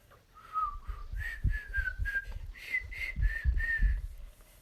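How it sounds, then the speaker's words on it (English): Someone whistles a short, wavering tune in a few breathy phrases, fairly quiet, with soft bumps and handling noise underneath. "let me try and whistle"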